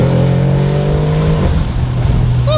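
An Audi RS7 fitted with a Valvetronic Designs exhaust and Unitronic sport cat downpipe revs loudly nearby, its engine note holding high, then dropping away and settling into a rumbling idle.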